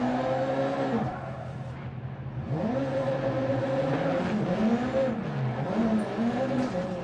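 Racing video game supercar roars around a track, its engine note sweeping up and down through gear changes, loud and continuous, with brief tire squeal.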